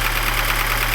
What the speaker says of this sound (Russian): после секунд 10-20 там, минуты работы двигателя на холостых оборотах появился вот такой характерный стук